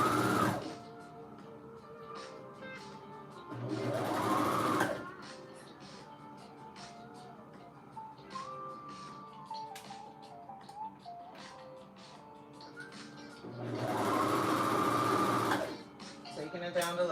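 Serger sewing machine stitching down the leg of handmade sweatpants after finishing the pocket; two loud bursts of continuous motor whir, each a second or so, with quieter clicks and handling sounds between them.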